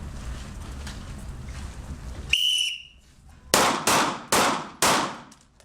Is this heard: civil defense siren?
no